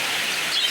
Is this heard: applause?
no